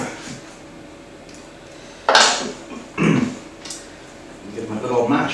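Potatoes with butter and cream are mashed for colcannon in a pot, a few wet squelching thuds and scrapes landing at irregular intervals, close and moderately loud.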